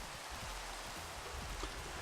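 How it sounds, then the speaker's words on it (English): Steady rain hiss in a Minecraft game world, a dense, even wash of falling drops with no voices, constant and moderately soft. "It is raining."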